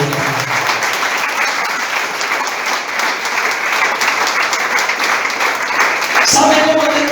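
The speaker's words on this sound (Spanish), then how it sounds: "Aplauda al que vive." A church congregation breaks into loud, sustained applause, dense and steady throughout, with voices rising over the clapping near the end.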